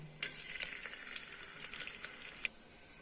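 Steady sizzling of chopped garlic frying in hot oil, beginning abruptly after a brief pause and continuing with crackles and pops.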